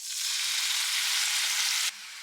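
Mustard and poppy seed paste sizzling loudly with spices and salt in a hot pan, a steady close frying hiss that cuts off abruptly near the end.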